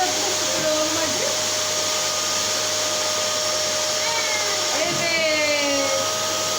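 An electric vacuum cleaner runs through house cleaning, a steady whining drone with a thin sustained tone that holds throughout, while a voice talks over it now and then.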